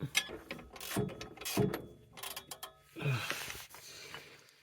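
A wrench tightening the exhaust clamp on a car, with a series of close metallic ratcheting clicks in uneven bursts and short pauses between pulls.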